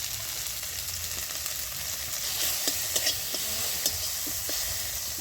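Tomato, ginger and turmeric sauté in a pan for dal, giving a steady loud sizzle of frying with occasional stirring scrapes and small pops. Nobody talks.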